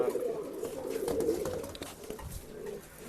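Pigeons coo steadily at a pigeon sale in Bangalore, soft throaty calls overlapping in a low continuous murmur with no talk.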